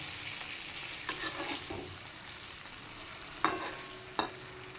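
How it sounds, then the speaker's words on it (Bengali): Pre-fried hilsa fish pieces go into not-yet-hot oil in a pan, giving a soft steady sizzle with a few sharp clinks and scrapes as they land and shift. "আর তেলটা কিন্তু আমি গরম হতে দেব না এর সাথে দিয়ে দেব ভেজে রাখা ইলিশ মাছগুলো"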